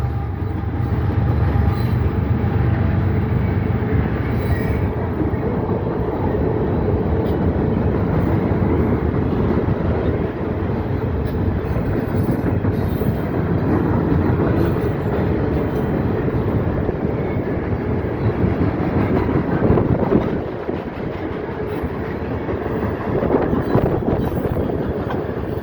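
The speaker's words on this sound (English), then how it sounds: "There's the end of the train right down there, you guys!" A CSX Q635 freight train rolls loudly and continuously past the Radnor Road railroad crossing in Radnor, Ohio, with a heavy rumble of wagons and wheel clatter that eases slightly near the end as the rear passes.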